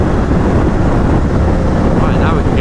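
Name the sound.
2011 Honda CBR1000RR Fireblade motorcycle riding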